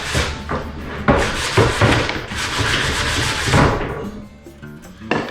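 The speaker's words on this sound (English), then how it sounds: "Coarse sandpaper, so it works pretty quick." Coarse sandpaper rubs back and forth over wooden interior window trim in loud, close, rhythmic scraping strokes, with a few knocks between passes and no talking.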